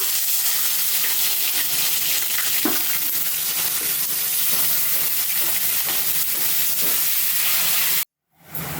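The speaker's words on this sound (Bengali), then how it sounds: "এটার মধ্যে উচ্ছেগুলো ভেজে নেবো আগে" Bitter gourd frying in hot oil with panch phoron, a loud steady close sizzle and hiss with occasional stirring, cutting off abruptly near the end.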